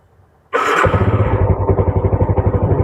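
A 2005 Yamaha Jupiter Z motorcycle starts with a short cranking burst, then its single engine settles into a steady, close, pulsing idle.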